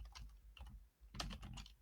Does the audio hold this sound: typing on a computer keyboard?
yes